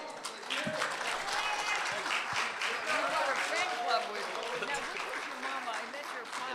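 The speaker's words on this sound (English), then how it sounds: "So let's give each of our candidates a round of applause." Audience applause for the candidates at the close of a Congressional District 29 primary election forum, a steady wash of clapping throughout with voices mixed in underneath.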